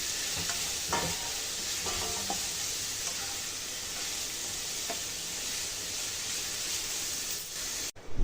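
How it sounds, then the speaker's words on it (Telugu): Grated bottle gourd cooked in a pan for payasam, giving a steady close hiss of frying with occasional soft stirring scrapes, continuous throughout and ending in a brief clatter. "ఇప్పుడు దీన్ని కలుపుకొని కొంచెం కుక్ చేసుకుందామండి"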